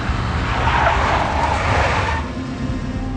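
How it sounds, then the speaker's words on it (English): Big black Mercedes car in the video game Max Payne, an engine roar with tyres squealing and skidding for about two seconds before easing into a lower rumble. "A big black Mercedes."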